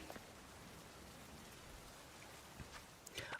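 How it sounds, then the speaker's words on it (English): Steady, soft rain hiss from the Pokémon Legends: Z-A game world, even and continuous with a few faint brighter patters near the end, heard alone without voices. "And it's bloody raining."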